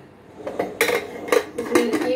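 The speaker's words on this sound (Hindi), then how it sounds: "कुकर को बंद कर देंगे।" Metal lid of a pressure cooker set on and twisted shut, a run of loud close clanks and scrapes of steel on steel, several in quick succession.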